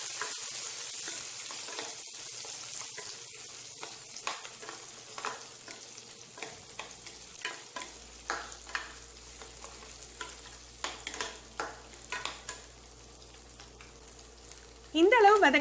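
Green chillies and whole garlic cloves sautéing in a pan for Tirunelveli sodhi: a steady oil sizzle with repeated spoon scrapes and stirs, close and moderate, ending in a brief louder clatter.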